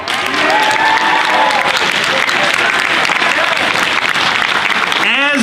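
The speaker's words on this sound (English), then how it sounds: "He deserves our great applause." A school meeting audience claps for the winners: a loud, even burst of applause filling the room for several seconds, with a voice rising over it near the end.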